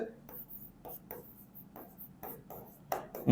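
A pen scratches across paper while a ledger entry is written by hand, in short repeated strokes with brief pauses, faint and close, under a quiet speaking voice.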